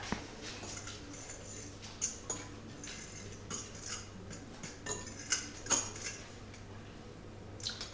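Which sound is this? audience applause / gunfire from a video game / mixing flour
mixing flour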